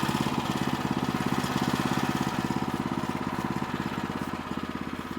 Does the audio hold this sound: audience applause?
no